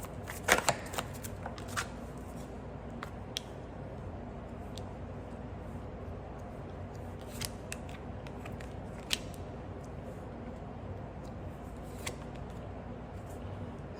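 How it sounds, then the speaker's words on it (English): Tarot cards are shuffled by hand in faint, scattered riffles and soft flicks spread across a quiet room. "It would be nice if I can shuffle."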